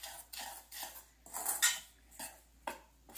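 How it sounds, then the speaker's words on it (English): Whisk scraping and tapping around a bowl while mixing flours and baking soda for Irish soda bread, with rhythmic brushing strokes and soft clinks, quiet and close with no voices. "You want to either whisk this together or stir it together."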